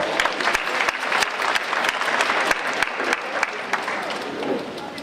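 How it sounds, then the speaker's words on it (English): A lecture audience at a Splash FM annual public lecture breaks into a steady round of applause, dense overlapping claps filling the hall at moderate loudness with a faint crowd murmur underneath. "they deserve another round of applause for that"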